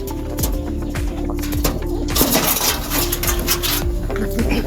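Racing pigeons coo in a low, repeated rhythm at a derby in Matnog, Sorsogon, with scraping and rustling handling noise and a busy, steady background throughout.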